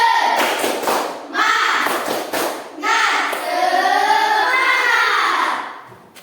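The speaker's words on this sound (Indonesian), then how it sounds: "Baiklah, mari kita melakukan tepuk semangat." A fourth-grade class claps in rhythmic bursts during a spirit-clapping routine, the sharp hand claps mixed with the children's chanting voices, loud and close in a classroom.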